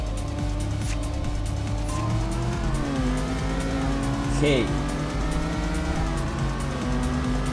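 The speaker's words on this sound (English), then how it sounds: "It actually screams much higher than our standard engine." A tuned V6 car engine in Tokyo Xtreme Racer 3 revs and climbs through the gears with a high, screaming whine, pitch rising and dipping steadily, while a person talks briefly over it.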